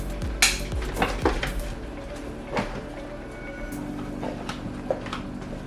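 A spoon mixes dump-and-bake chicken parm in a baking dish, producing a series of sharp metallic scrapes and clinks against the dish with irregular pauses between strokes, close and clear with no talking.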